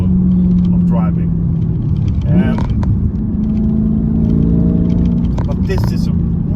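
Manual Porsche Panamera S V8 exhaust rumbling steadily on a winter drive, a deep continuous drone with brief revs rising and falling, loud and close throughout.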